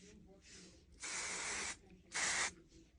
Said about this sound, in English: spray them out like that